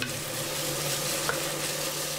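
Spiced sauce seasoned with red pepper powder, black pepper and salt being stirred in a frying pan for a potato dish, a steady low sizzle with soft scraping throughout and one brief clink near the middle.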